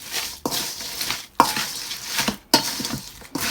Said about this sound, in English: So I'm just gonna mix that up.